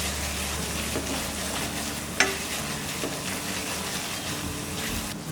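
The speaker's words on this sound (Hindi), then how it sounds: "और इस मिक्सचर को कंटिन्यूस स्टर करेंगे" Pistachio and almond mixture stirred continuously in a pan until dry for ukdiche modak filling, a steady dense sizzle with faint scraping and one sharp clink, close and even, no speech.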